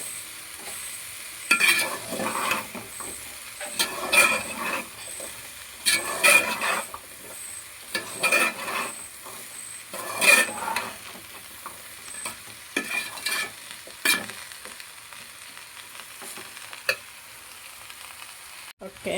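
Salted pickle being stirred and mixed in a pan, with repeated scraping strokes of a spoon in an uneven rhythm over a soft sizzle, close and fairly loud, without talk.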